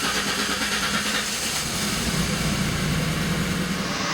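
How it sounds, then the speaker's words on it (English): A Ford Mustang (1979–2004) with a newly replaced power steering rack and pinion runs after starting, a steady broadband engine drone close by, continuous and fairly loud with no talk. "So now you turn the car on and you turn the wheel lock to lock a bunch of times."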